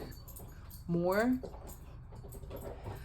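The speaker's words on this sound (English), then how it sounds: "that's my dog" A dog lets out one short, high whimper that rises and wavers in pitch, close by and clear over a quiet room, while a person talks before and after it.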